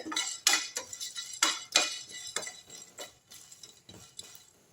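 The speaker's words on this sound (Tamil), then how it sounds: "இதை வந்து லேசாக வறுத்துருவோம்" Ginger dry-roasting in a pan on the stove, stirred with a metal utensil: a series of sharp, irregular clinks and scrapes near the mic, louder early and softer toward the end, with no talk.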